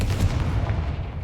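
Explosive Confringo spell blasting in the Hogwarts Legacy game, a dense low booming burst that rumbles on continuously through the short moment, loud and close, with no talk over it.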